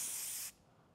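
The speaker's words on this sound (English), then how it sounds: "I can spray, hold it down, and you can see how that compacts that style down" Hairspray hisses in a single short burst onto styled hair, then cuts off abruptly into quiet room tone.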